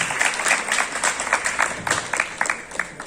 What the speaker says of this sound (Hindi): और एक बार सभी टीम मेंबर्स के लिए भी ताली बजा दें प्लीज़